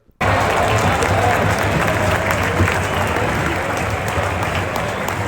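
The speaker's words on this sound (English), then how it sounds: "This is the applause that Real Madrid got" A stadium crowd at the Bernabeu applauds Real Madrid, a dense, loud and sustained wash of clapping that starts abruptly and continues without a break.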